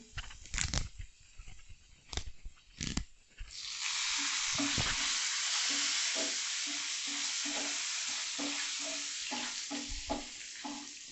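Asafoetida and fresh curry leaves sauté in a pan for pongal, opening with a few sharp scraping stirs before a steady, loud sizzle takes over, with light spoon scrapes recurring toward the end.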